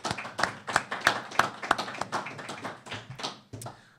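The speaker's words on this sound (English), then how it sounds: "Let's hear a round of applause for Lorcán McLoughlin from Cork and Waterford's sharpshooter" A small studio audience at a hurling league preview claps, the individual hand claps distinct and irregular, close and moderately loud, thinning out toward the end.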